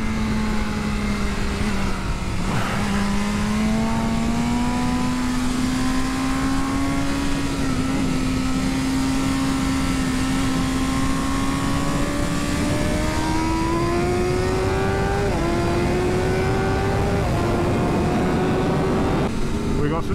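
Motorcycles and other vehicles racing on a track, including a 2023 BMW S1000RR, their engines droning loudly and continuously with rising and falling pitch as the pace picks up, while people talk over the noise.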